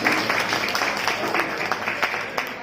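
Enthusiastic crowd applause for the guest of honour at a poetry gathering (kavi sammelan) held at an institute, a dense wash of clapping with scattered sharper claps, blended with crowd murmur and voices throughout.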